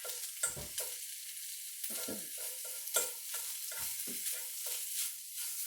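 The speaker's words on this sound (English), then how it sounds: "I'm going to be searing here" Ground beef searing in a hot pan for stuffed poblano peppers, with a steady sizzle broken by repeated spatula scrapes and stirs, close and fairly loud, no talking.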